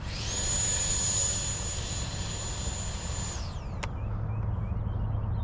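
An Eflite Viper 90mm RC EDF jet on landing rollout gives a high, steady ducted-fan whine for about three seconds before it winds down sharply, leaving a low background rumble and one brief click.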